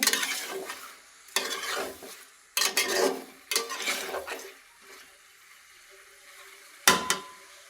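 Chicken bones with ash gourd and spices are stirred in a pot: close, scraping strokes come in short bursts separated by brief pauses, with no talking.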